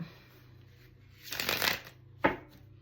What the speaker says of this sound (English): One more time for a shuffle